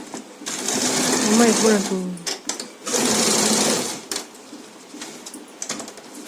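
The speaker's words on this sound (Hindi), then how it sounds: "2-3 बार सिलाई कर दें।" Sewing machine stitching elastic into the waistband of a pair of pants, running in bursts of steady whirring with pauses between seams, close by with talk over it.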